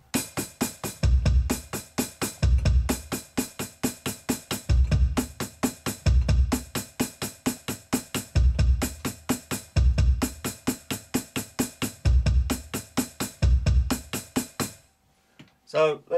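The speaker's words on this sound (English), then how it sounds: "So between the hi-hat and the bass drum, it might sound like this." A drum groove on hi-hat and bass drum plays alone, with crisp steady hi-hat strokes and regular deep kick thumps in an even repeating pattern, ending abruptly.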